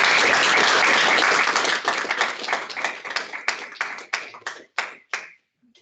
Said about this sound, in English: could you give a warm round of applause to